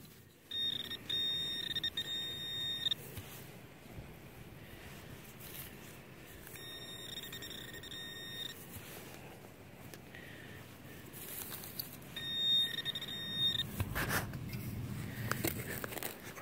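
Three bursts of high electronic beeping from an OMMO metal detector separated by quiet gaps, faint rustling and digging noises between them, no voices.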